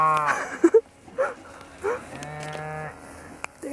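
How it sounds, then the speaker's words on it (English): Several cows and calves moo in turn on a hobby farm, loud and close, with low drawn-out calls separated by short pauses and no talking. "They're all mooing."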